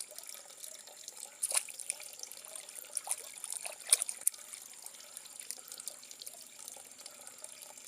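Cold water runs from a pipe line outdoors, a soft, fairly faint trickle with irregular splashes and drips and no talking.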